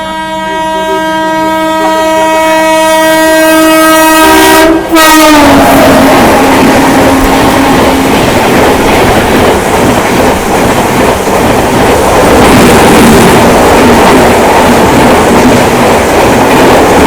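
On board the Garib Rath Express 12187 between Jabalpur and Mumbai, a passing train sounds a long loud multi-tone horn, then gives way to a roaring, rattling rush of wheels and carriages crossing close by, steady and intense.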